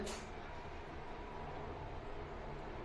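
A steady low rumble and rattle of a moving train heard from inside a carriage, constant and droning, with no voices.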